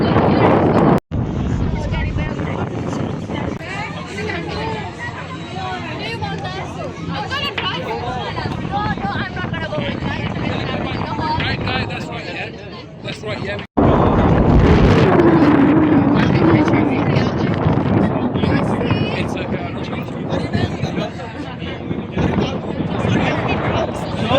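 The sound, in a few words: cold wind blowing outside on a boat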